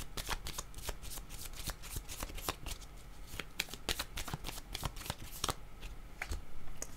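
A deck of tarot cards being shuffled for a card reading, dense rapid riffling and flicking of cards close up, continuous and fairly steady throughout with no voices.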